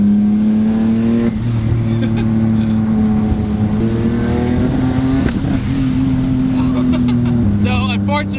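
A single-turbo Mitsubishi 3000GT VR4 that is hitting boost cut accelerates loudly from inside the car, its engine note climbing steadily through the gears with turbo whooshes and flutters between shifts.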